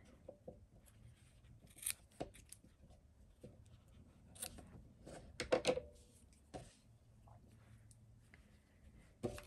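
Sharp snips of scissors trimming crochet yarn ends on a handmade rose, a few scattered close cuts among quiet handling rustles.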